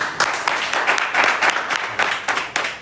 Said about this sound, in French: Applaudissons pour Axel, s'il vous plaît.